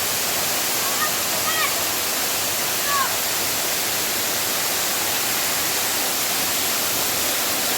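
A tall waterfall on a stream at Ghonsari Sapatwadi pours with a dense, unbroken roaring rush that stays loud and steady throughout, with a few faint whistling bird-like chirps briefly above it and no clear talking.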